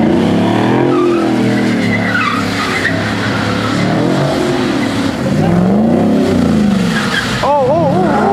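A Mustang skids and squeals its tires at a car meet, with revving engine tones rising and falling close by while spectators shout and talk over the noise.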